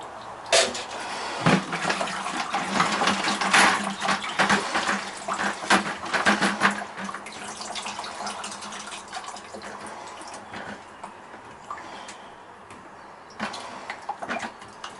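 Water being drained off rinsed gold foils recovered from RAM sticks into a bucket, splashing and pouring in uneven gushes that grow quieter and sparser toward the end.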